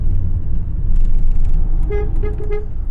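A taxi horn in Istanbul honks in a few short repeated toots near the end, over a loud, close engine rumble.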